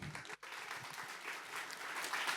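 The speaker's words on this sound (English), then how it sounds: "So please, warm round of applause." Audience applause at a technical writers' conference, a continuous crowd of clapping hands, fairly distant and even, with a brief dropout near the start and swelling slightly toward the end.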